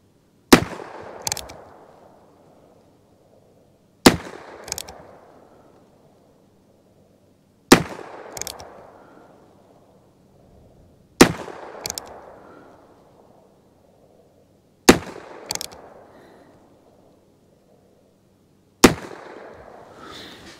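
A new Heritage Rough Rider Tactical Cowboy revolver fires a six-shot group of Federal Auto Match rounds at 25 yards, six sharp loud cracks spaced a few seconds apart, each with a short echoing tail and no talking between.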